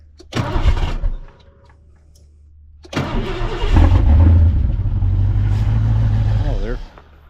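A Ford Foxbody 5.0 302 V8 with heavy sludge cranks briefly, pauses, then fires up and settles into a loud, steady rumbling idle close by, with a short revving swell near the end and no talk over it.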